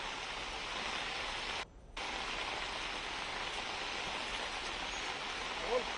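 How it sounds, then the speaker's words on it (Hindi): Heavy rain falls in Connaught Place, Delhi, a dense and steady hiss that drops out briefly once before resuming, with no talk. "दिल्ली के अलग अलग इलाकों में जबरदस्त बारिश हो रही है"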